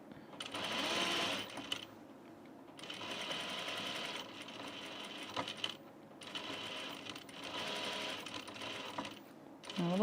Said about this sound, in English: The quilting cotton is almost too easy to sew.